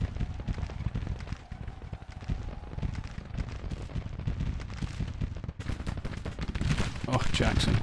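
Gunfire in the Civil War strategy game Grand Tactician rattles in a dense, continuous stream of crackling musket volleys and booms, loud throughout with battle noise swelling near the end and voices mixed in.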